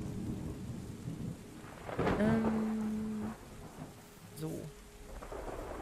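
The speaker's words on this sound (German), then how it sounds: "wer ist Fan von Gewittersounds und wer mag es gar nicht?" Thunder rolls in a Terra Nil video game thunderstorm, a deep rumble swelling midway over steady rain, with softer crackles fading after and a voice heard briefly.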